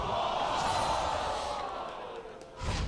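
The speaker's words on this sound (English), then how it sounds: "Crowd said it all right there" A crowd at an LCS League of Legends esports match lets out a sustained collective groan and murmur that swells, then fades, with a brief rise again at the end.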